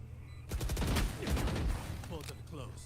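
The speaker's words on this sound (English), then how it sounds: "It's bullets." Gunfire in the Valorant video game, a burst of several rapid shots over about a second and a half followed by scattered fainter cracks, with game sounds and a voice audible in the mix.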